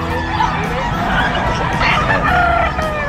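Fighting roosters crowing loudly over a dense background of clucking fowl, a continuous noisy barnyard chorus.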